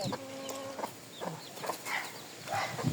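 Chickens scratch about in uncovered corn waste, scattered scuffs and rustles mixed with soft clucks and a few short calls from hens nearby, fairly quiet overall.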